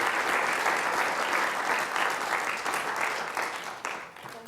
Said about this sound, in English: let's cheer for the people that build stuff